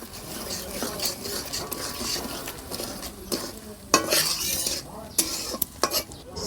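Dried ita fish stir-fried with chili, coriander and turmeric powder and salt in a pan, heard as close, irregular scraping of a spatula against metal over a steady oily sizzle, with sharp clinks at intervals.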